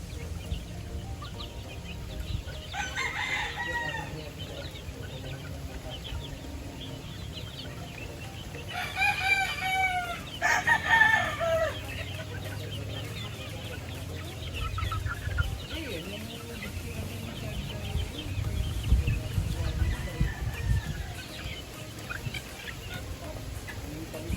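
Roosters crow a few times at a game farm, one near and loud, amid intermittent clucking from a flock of chickens against a quiet outdoor background.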